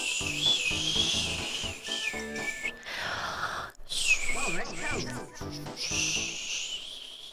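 A person tries to whistle, producing airy, breathy hisses with wavering, half-formed tones that break up between attempts. A voice and laughter can be heard in between.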